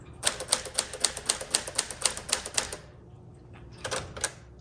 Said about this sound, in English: Smith Corona Sterling was around for many decades, one of the most popular typewriters out there.